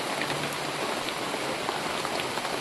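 Heavy rain pours down steadily, a dense, loud hiss of drops on surfaces with no letup and no voices.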